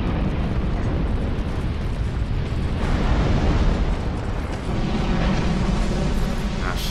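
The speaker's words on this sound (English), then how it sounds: "Oh, they're blowing up, but unfortunately they're not hitting him." Enemies blowing up in the Dark Souls II Crown of the Old Iron King expansion, a loud, continuous roaring rumble of explosions and fire that fills the whole stretch without letup.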